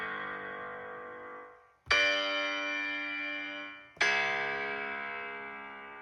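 Three sustained keyboard notes of the riff struck one after another, each ringing out and slowly decaying before the next, played alone without talking.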